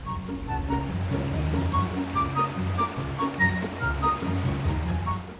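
A river flowing through thick bush, with a steady close burble of running water and small bright splashes repeating throughout, no voices over it.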